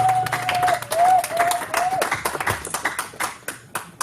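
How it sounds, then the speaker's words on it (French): Congregation clapping for the Lord during a French-language church service, a loud burst of applause with a sustained tone over it at first, thinning into scattered, uneven claps toward the end. "Nous applaudissons pour le Seigneur."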